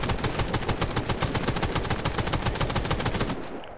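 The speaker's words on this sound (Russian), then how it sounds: "Отличительной особенностью Галил Ар является то, что этот автомат прекрасно стреляет прокликом" Rapid, evenly spaced shots from a Galil AR assault rifle in the game Warface, a loud close string of sharp cracks fired in quick succession for about three seconds before cutting off abruptly.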